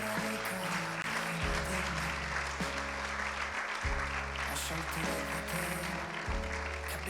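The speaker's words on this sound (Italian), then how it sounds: "Facciamo un bel applauso." An audience gives a steady round of applause at an award ceremony, continuous clapping throughout with background music humming beneath it.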